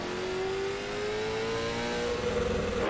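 Late model race car engine revving on throttle on a speedway circuit, a steady loud drone with a rising pitch as the car accelerates, heard close and alone.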